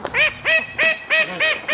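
Mallard ducks calling on a frosty farm with hens nearby: five loud, evenly spaced honking quacks in a steady rhythm, close by, with no talk over them.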